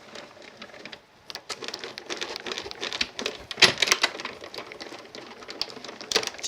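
A hand-cranked die cutting machine run through with acetate on black card, giving a crackling, ratcheting, clicking mechanical grind in uneven bursts at close range.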